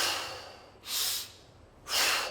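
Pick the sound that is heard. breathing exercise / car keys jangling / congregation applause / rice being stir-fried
breathing exercise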